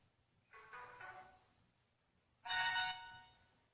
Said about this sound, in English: And then default notification sounds, you have a whole bunch of those too.